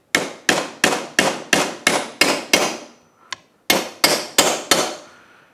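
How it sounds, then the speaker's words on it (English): Hammer tapping a driver to seat a part in the casing of a Yamaha YXZ1000R gear reduction kit: a rapid run of sharp metallic strikes, a brief pause with a light knock, then four more close, ringing blows. "then we'll tap it a little bit further down to sink it in"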